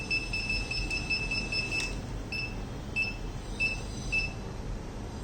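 An RFID-based intrusion alarm receiver module sounds a series of short, bright electronic beeps at irregular intervals, clear against a quiet background.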